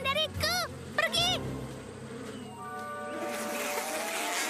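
A swarm of bees buzzes in an animated cartoon scene, a steady droning hum that swells toward the end, preceded by a voice speaking with sung, warbling tones.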